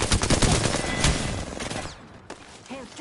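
Dense video game gunfire, a loud rattling volley of rapid shots that thins out toward the end, with scattered game effects trailing behind.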